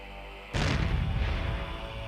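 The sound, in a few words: black powder explosion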